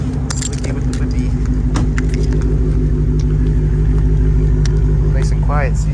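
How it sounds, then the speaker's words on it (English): Dodge Hellcat engine idling warm and steady, a low continuous rumble throughout with small clinks and a voice talking over it. "Nice and quiet, see? Once it's all warmed up, the idle on this thing's great."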